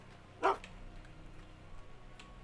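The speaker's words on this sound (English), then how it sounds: "Let's pet the dog." A single short dog bark from a pet dog in the Gold Mining Simulator video game, heard once and fairly clear over a low, steady background hum.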